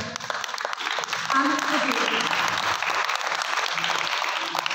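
Clapping from an exhibition audience greeting the evening's chief guest, steady and moderately loud throughout, with a few voices mixed in under the applause.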